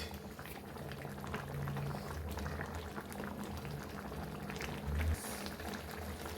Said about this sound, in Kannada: ನೋಡಿ ಹೆಂಗೆ ಕುದೀತಾ ಇದೆ ಅಲ್ಲ